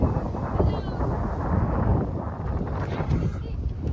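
Strong wind in the Sahara Desert in Morocco buffets the microphone in a constant low roar, with faint voices partly buried underneath.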